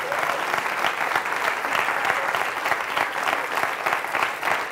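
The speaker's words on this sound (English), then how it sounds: "Everybody, big round of applause." Steady, dense applause from an audience at a swing dance event honoring a dancer, even and continuous throughout at moderate distance.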